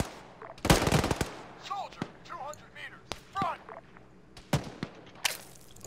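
Gunfire in the military video game Arma 3 cracks out in sharp separate reports, a loud burst near the start and scattered single shots after, while players talk over the shooting.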